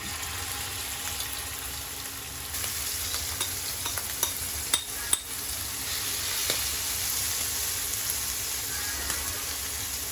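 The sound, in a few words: prawns frying in coconut oil in a pan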